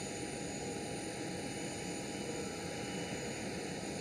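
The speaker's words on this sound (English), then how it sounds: "And with a nice arrival as well, A321 and Neo XLR." A steady, distant roar of an Aer Lingus Airbus A321neo airliner arriving at Amsterdam Schiphol, a broad even engine rumble with faint tonal whine and no talk.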